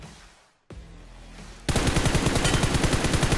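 BGMI match gunfire, a quiet ambient stretch then a sudden loud, sustained automatic burst of rapid evenly spaced shots close by.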